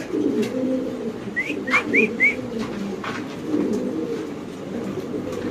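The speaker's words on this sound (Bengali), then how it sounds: "এই যে নরের ডাক" A male Spanish pouter pigeon gives a short run of about four rising whistly coos in quick succession, moderately near, over a steady low background murmur with no talk.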